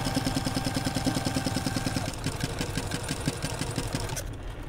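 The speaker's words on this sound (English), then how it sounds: "we're going to be sewing from corner to corner parallel to the quilt" A sewing machine stitches a quilt corner to corner with a steady, rapid mechanical whir and a fast even rhythm of needle strokes, close and continuous without any talk.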